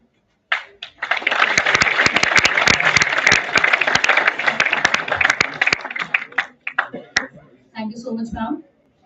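An audience at an academic seminar claps steadily for several seconds, a dense burst of hand claps that tapers off, pauses briefly and then returns in a short final flurry.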